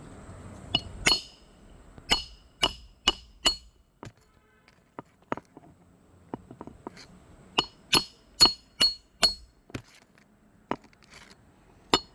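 Sharp metallic hammer strikes on nails into roof shingles come in quick runs of four or five blows, separated by quieter tapping and a pause, nearby with no talking.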